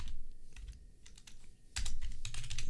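Computer keyboard typing as a wallet address name is entered on a crypto exchange site: quick clusters of key clicks, sparse at first, then a denser, louder burst of keystrokes toward the end, with no voices.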